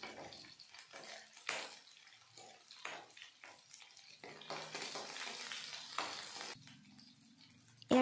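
Chopped onion fries in a pan over a low gas flame for an Assamese raw banana (kachkol) dish, giving a soft, uneven sizzle with occasional stirring scrapes and watery crackles.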